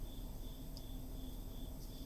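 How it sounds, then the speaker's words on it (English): Crickets chirp indoors among stacks of game card decks, a faint, steady high-pitched trill running continuously through a quiet room with low background hum. "There's a whole, like, family of crickets in here."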